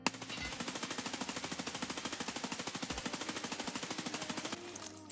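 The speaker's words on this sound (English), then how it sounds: "when I shot, it rose up" Fully automatic gunfire at a shooting range in the video game Escape from Tarkov, a long rapid burst of evenly spaced shots lasting over four seconds, close and loud, then stopping abruptly.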